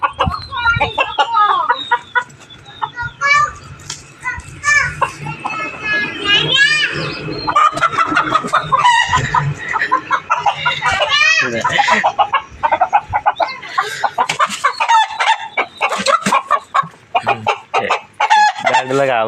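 Rooster crowing and hens clucking repeatedly in a busy rural yard, close and loud, mixed with children's playful shouts and people talking throughout.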